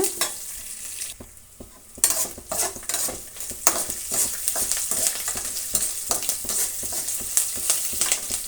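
Urad and chana dal frying in oil for an amaranth stem stir-fry, a continuous crackling sizzle with frequent close scrapes and clinks of a spoon against the pan, with no speech.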